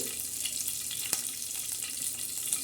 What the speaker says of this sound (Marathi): आता लगेच आपण त्याच्यामध्ये तेल टाकलेलं आहे फोडणीसाठी